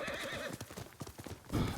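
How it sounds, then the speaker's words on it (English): A horse in Ghost of Tsushima clip-clops with hoof steps and gives a whinny, close and fairly loud, over a busy background. "Jumping off the horse."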